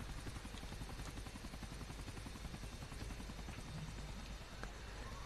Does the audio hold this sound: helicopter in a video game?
yes